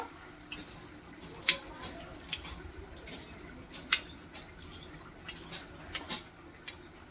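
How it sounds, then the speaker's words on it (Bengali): Fresh coriander leaves are chopped with a knife in a string of soft, irregular close-up cuts and taps, about a dozen over several seconds, with no talking. "এখানে আমি বেশ কিছুটা ধনে পাতা নিয়ে নিয়েছি একটু চপ করে নেব"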